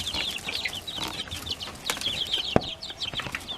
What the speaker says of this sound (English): Let me show you these chickens.